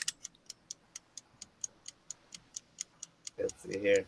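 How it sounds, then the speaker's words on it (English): A timer ticking in an even, rapid series of sharp clicks, about four a second and close by, then a voice briefly starts speaking at the end. "Can I crank up a timer?"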